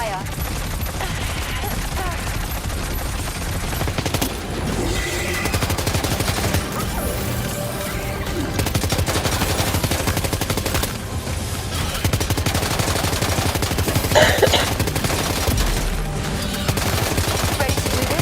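Sustained gunfire in the video game Death Stranding 2, dense overlapping bursts of fusillade and automatic fire running loud and continuous throughout, mixed with game music and effects, with voices speaking over it.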